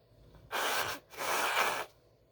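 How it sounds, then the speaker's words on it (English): Two forceful, noisy nose blows in quick succession, close to the microphone, each a harsh breathy burst lasting under a second, with quiet between. "I have to blow my nose."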